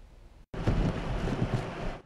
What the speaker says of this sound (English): Waves lashed the Rhode Island shoreline Sunday as Tropical Storm Henri made landfall